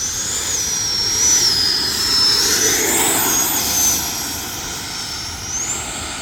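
An E-flite 80mm F-16 RC jet with an electric ducted fan flies past in a continuous loud whine that rises and falls in pitch as it maneuvers overhead, with no talk.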